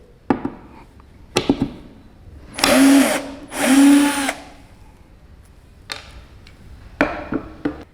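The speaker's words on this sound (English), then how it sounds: "So now we drill onto this board, wooden board, and let's see how it works." A Bosch GSR 120 Li 12V cordless drill bores into a wooden board in two loud whirring bursts of about a second each, with sharp clicks and taps before and after.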